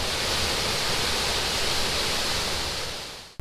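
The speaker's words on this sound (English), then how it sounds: "The falls flow very consistently and are good to visit any time of the year." Clearwater Falls, a spring-fed waterfall on Oregon's Rogue Umpqua Scenic Byway, pours with a constant, dense roar of rushing water, loud and unbroken until it stops abruptly.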